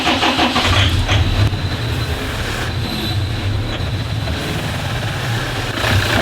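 The JD DervBus project vehicle's engine fired up for the first time, a loud, dense, continuous roar and rumble with a rough texture and slight surges, close and filling the scene.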